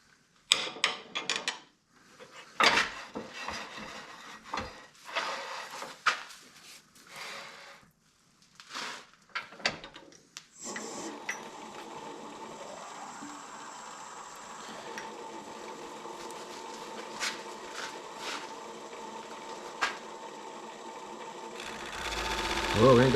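A lathe turns a cherry bowl blank while a tenon is cut into it, the steady whirring cut running continuously through the second half after scattered knocks and handling noises, with someone talking intermittently over it.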